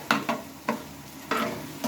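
Steady sizzling of taro frying in hot oil, with several sharp stirring scrapes spaced irregularly on top.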